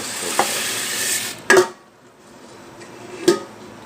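Spaghetti simmering in a pot of boiling water, a soft bubbling hiss with a few sharp clinks of a utensil against the pan.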